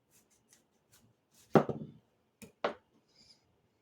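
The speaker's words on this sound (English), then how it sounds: "Now, you're going to want a good sharp knife." A sharp knife slices through a green tomato on a cutting board: one firm cut followed by two quicker strokes, close and distinct against near silence.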